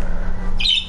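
Inside an apartment in the video game Fortnite, a short, loud bird squawk bursts in near the end over a steady low game hum, with no talking.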